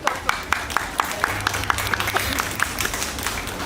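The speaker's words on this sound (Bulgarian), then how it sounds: "Аплодисменти за дамите." Audience at a Mrs. Varna 2025 pageant gives the contestants a short round of light, crisp clapping, individual hand claps standing out steadily over a low room murmur.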